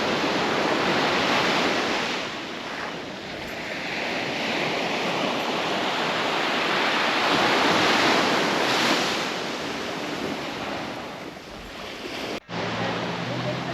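Ocean surf rolls onto a deserted beach on Pulau Pangkor, Malaysia, a broad continuous wash of breaking waves swelling and easing, with wind buffeting the microphone and a brief knock near the end.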